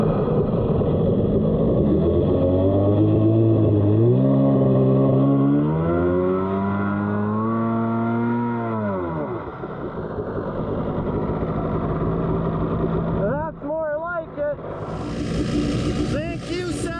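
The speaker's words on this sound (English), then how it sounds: "Yeah, Andy on his old lady ski, driving this Andy." A jet ski engine, a CDK2 carburetor under test on an X2, revs with rising and falling pitch, loud and close, then settles into a lower drone. Toward the end other sharp engine noise and chirps cut in.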